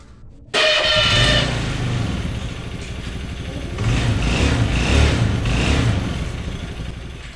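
A carburetor Honda Beat scooter is electric-started; the engine catches abruptly and settles into a close, steady idle, then swells with light revving before easing back down.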